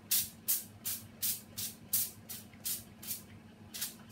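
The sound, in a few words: spraying Frylight cooking oil spray onto potatoes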